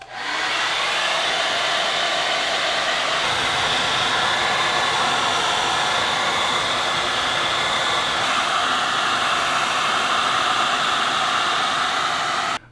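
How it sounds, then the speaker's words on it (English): A hair dryer blows continuously at close range, heating wax into canvas shoes for waterproofing, a loud steady whoosh that runs almost unbroken and cuts off at the very end. "when we add heat to this with the hair dryer, it's pretty much going to melt everything"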